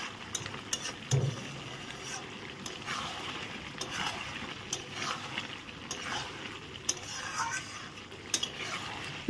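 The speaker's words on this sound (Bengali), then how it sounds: "এখন আমি আবার নেড়ে দিলাম। ভালো করে নেড়াচাড়া করে দিলাম।" Chicken curry with cumin, chilli, garlic and ginger paste is stirred in a pan, steady sizzling under repeated scraping strokes of a utensil and a few sharp clinks against the pan.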